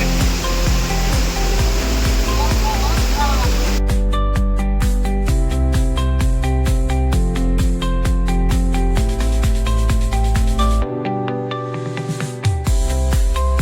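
Bhambai waterfall in South Gujarat, seen on a misty day, gives a loud, steady rushing roar for a few seconds before music takes over and drowns it out.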